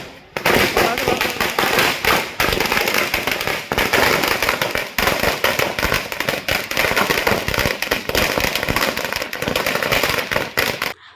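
Rapid strings of firecrackers burst loudly and continuously at a street celebration in Badlapur, crackling and popping in dense volleys with brief pauses, with crowd voices faintly underneath.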